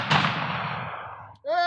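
A loud gunshot cracks at an American country party, its booming report decaying over about a second before a voice briefly cuts in.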